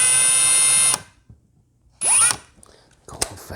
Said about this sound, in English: I won't talk while the drill's going.